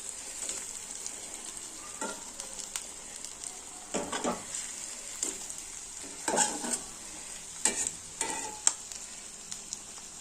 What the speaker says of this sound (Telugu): ఎగ్ మంచిగా ఫ్రై అయిందండి.